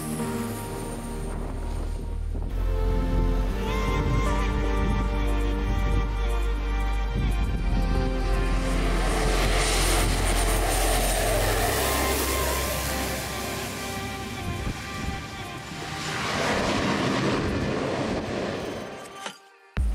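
Airplanes land and take off at Saint-Barthélemy airport, with a loud, continuous engine roar that swells and shifts in pitch for about twenty seconds before cutting off abruptly at the end.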